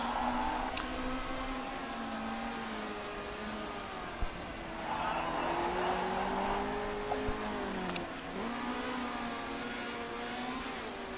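Race cars side by side in the Motorsport Manager video game, engines droning steadily with shifting pitch as they rise and fall together, a continuous moderately loud whine throughout.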